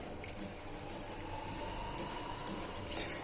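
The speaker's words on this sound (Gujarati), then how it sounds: "ચણાની દાળને આપણે ધોઈ નાખવાની છે" Chana dal is rinsed in water, a faint, soft sloshing and trickling with small splashes, quiet and continuous with no voices.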